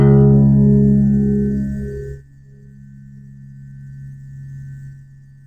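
A low string on a six-string guitar sounds once, deep and resonant, ringing for about two seconds before damping into a faint lingering hum, with no voices over it.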